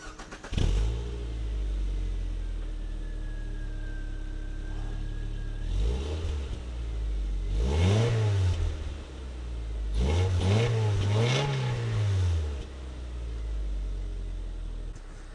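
Car engine fitted with a newly installed, completely stock exhaust starts and idles quietly, with a few gentle revs rising and falling in two short bursts before settling back to a low, steady idle.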